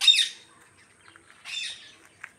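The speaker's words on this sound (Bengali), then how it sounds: "দাবার ওইখানে পাখি আছে" Two short bursts of chirping bird calls ring out near a flooded house, with a faint brief chirp after, separated by near silence.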